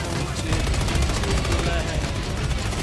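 Rapid sustained weapon fire from a laser weapon in Helldivers 2 combat, a loud, dense, continuous burst of shots filling the whole moment, with voices talking underneath.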